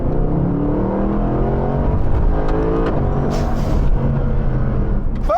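A Mercedes-Benz AMG SLS with a naturally aspirated engine and no turbos revs up from inside the car, a rising, fairly loud engine note with brief shifts in pitch and a faint clatter near the end.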